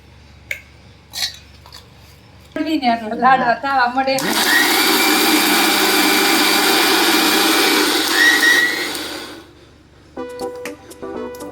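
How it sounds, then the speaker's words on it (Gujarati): Electric mixer grinder jar grinding fried muthiya into a fine powder, a loud, steady whirring roar lasting about five seconds, preceded by someone speaking and followed by quieter clatter. "મિક્સરના ઝાર વડે હવે આપણે દળવા મળીએ"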